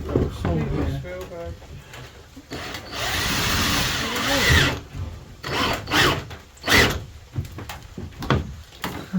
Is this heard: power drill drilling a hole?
yes